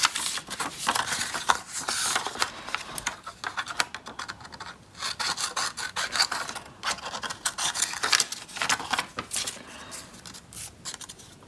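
Scissors snipping through stiff cardboard details for an Easter chicken treat box made from a toilet paper roll, a steady run of close, dry cutting and rubbing strokes with no talking.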